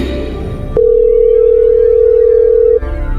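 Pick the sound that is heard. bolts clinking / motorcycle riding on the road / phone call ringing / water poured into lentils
phone call ringing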